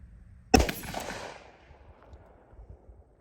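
A single sharp shot from an S&W 327 Performance Center .357 Magnum snub-nose revolver, loud and close, followed by a short decaying echo and a quiet outdoor background.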